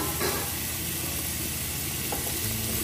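Garlic and green chili frying in a pan with turmeric and chili powder added for a Bengali prawn dish, a steady close hiss and sizzle with faint stirring scrapes, no talk.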